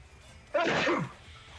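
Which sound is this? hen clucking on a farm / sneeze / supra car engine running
sneeze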